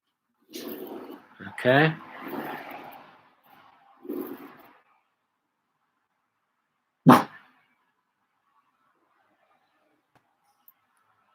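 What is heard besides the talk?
dog barking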